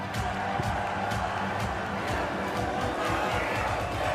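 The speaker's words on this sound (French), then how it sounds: "merci de faire une acclamation pour Valérie Pécresse" A large crowd cheers for Valérie Pécresse at a French presidential campaign rally, a steady dense roar of voices with scattered sharp claps or shouts throughout, loud and continuous from start to finish.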